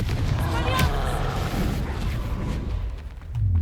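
A Confringo spell blast in the Hogwarts Legacy video game, a rumbling explosive boom rolling under game music and effects, loud and continuous for a few seconds, with a spoken voice mixed in.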